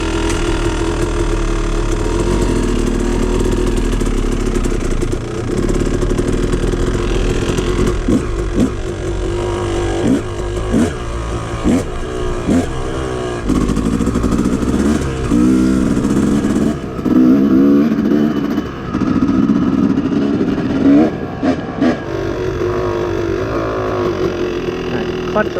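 A Yamaha YZ250 two-stroke dirt bike with leaned-out jetting that still runs rich idles and revs near at hand, with repeated throttle blips and rising bursts as it rides off. Someone speaks briefly at times.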